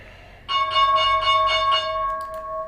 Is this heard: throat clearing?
no